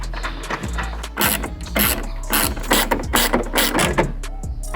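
Ratchet clicking rapidly in bursts while tightening the two nuts on the third brake light of a 1999-2004 New Edge Ford Mustang, close and loud, with a steady background hum and no talk.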